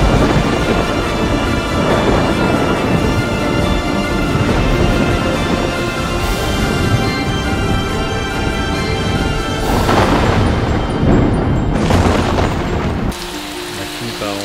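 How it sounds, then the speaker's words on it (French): Thunderstorm over the Amazon rainforest at night, heavy rain hissing steadily with rolling rumbles of thunder and a couple of louder cracks, close and continuous. "on sent bien que l'orage ne nous échappera pas une deuxième fois"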